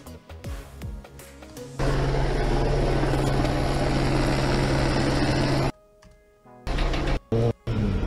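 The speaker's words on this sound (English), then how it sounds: "There's a fucking chopper above blasting him with a fucking spotlight." A police helicopter hovers overhead at night, a loud steady rotor roar that holds for several seconds before dropping out, then returns in short bursts.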